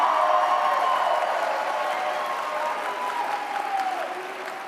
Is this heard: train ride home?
no